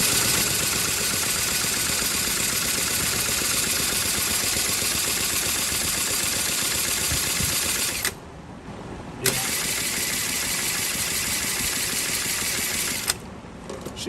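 A leaf blower's small two-stroke engine, previously run without its air filter, is cranked over for a compression test, giving a loud steady mechanical churning with two short pauses.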